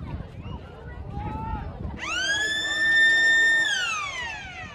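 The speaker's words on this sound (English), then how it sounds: "And there goes the siren for quarter time." A long electronic siren wails across the ground to mark quarter time at a country Australian rules football match, rising sharply, holding steady for over a second, then sliding down, loud above faint crowd murmur.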